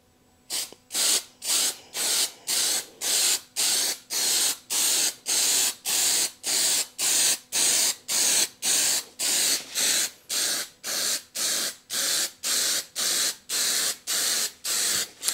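Duplicolor gunmetal grey spray paint applied as a second coat to Honda Civic EK headlight parts, about two dozen even hissing bursts in a steady rhythm, close and loud, without talk.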